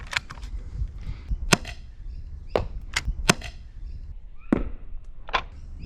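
A Dart Zone Mk-2 foam dart blaster fires a rapid series of sharp, snappy shots, about eight close cracks at uneven intervals over low mechanical rustling.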